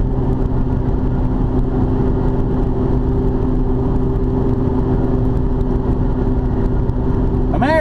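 Steady engine drone of a car following closely behind, a continuous mid-low rumble with a faint whir holding level throughout, close and loud.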